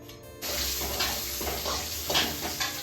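Onions sautéing in hot oil in a pan in a village kitchen: a loud, steady sizzle starts abruptly and continues with occasional stirring scrapes.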